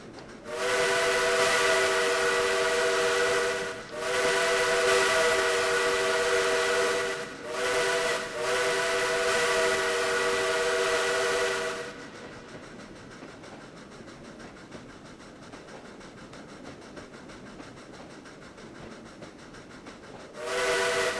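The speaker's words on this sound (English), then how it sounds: "Just hanging out with the coaches, watching the train in the distance." Southern Railway 4501 steam locomotive in the Trainz game sounding its chime whistle in several long blasts separated by short gaps, loud and sustained, then quieter rumbling rolling noise before the whistle returns at the end.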